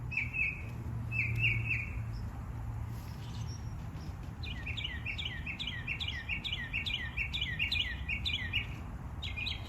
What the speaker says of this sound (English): That bird is like right next to me.